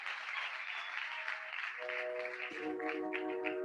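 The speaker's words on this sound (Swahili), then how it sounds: "Tuwapigie makofi tafadhali wazazi wetu." Applause from a graduation ceremony audience honouring the graduates' parents: a dense, steady wash of many hands clapping, continuous and moderately loud, with a sustained musical tone joining partway through.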